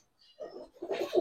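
Giribaz pigeons at a pigeon market give soft, brief cooing calls, a few low murmuring bursts rising out of near silence and growing slightly louder toward the end.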